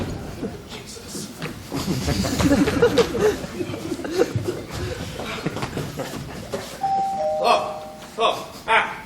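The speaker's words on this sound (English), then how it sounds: "That's the doorbell, dear, not the telephone." Under chatter and chuckling, a doorbell chimes near the end, two clear tones rising over the voices.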